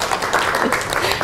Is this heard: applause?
yes